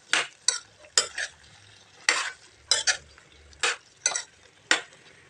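Repeated spoon scrapes and knocks against a pan while brinjal curry is stirred, about nine short bursts in an irregular rhythm, close and clear with a soft low simmer underneath.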